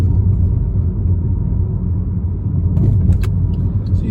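A car engine braking and slowing down into second gear gives a low, close rumbling drone that holds steady for a few seconds with a faint rattle toward the end.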